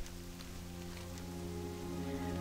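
Steady rain falls across the grassy plains of Mulgore in World of Warcraft, a soft, even hiss running the whole time beneath sustained tonal game music.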